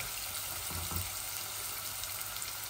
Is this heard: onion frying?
yes